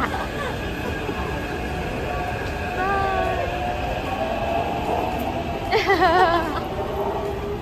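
Train pulling into a station, a rumbling approach with rising squealing wheel and brake tones near the end, heard under people talking.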